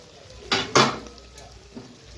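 A pot lid clanks twice in quick succession as it is lifted off a pot of olive pickle cooking on low flame, followed by a faint metallic tap and a soft background hiss.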